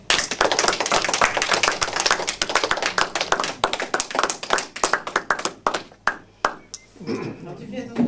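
An audience applauds in a dense burst of clapping that thins out into scattered individual claps before fading, followed by a low murmur.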